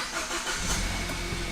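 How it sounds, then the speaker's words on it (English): A Kia Ceed GT being started: the starter cranks and the engine catches, settling into a close, steady running rumble near the end. "So if I turn the car on,"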